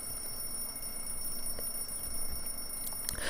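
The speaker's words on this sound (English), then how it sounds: "I realized that the cause of this jingle was my alarm clock." An alarm clock rings in the Everlasting Summer video game, a steady, faint high jingling that runs for a few seconds over a quiet background hum.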